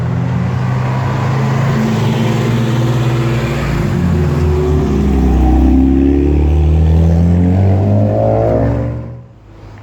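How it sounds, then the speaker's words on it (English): Several cars drive past on a snowy race track with steady engine drone and rising revs, loud and continuous, fading out at the very end. "The last cars are turning up the track right now."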